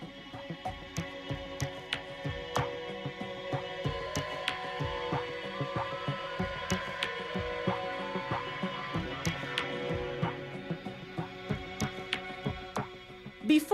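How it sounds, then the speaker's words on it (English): A lottery ticket folding machine creases paper along perforation lines, producing a steady mechanical hum with irregular ticking and clacking taps throughout, moderately quiet and with no talking. "The next machine folds the tickets along the perforation lines into piles called"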